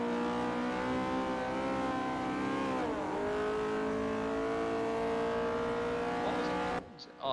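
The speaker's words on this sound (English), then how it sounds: "And then you got VTEC. Sounds like every other Honda in the game" Honda engine with VTEC in Forza Motorsport 4, a loud sustained high-revving wail with rising and falling pitch through gear changes, ending in a brief cutoff near the close.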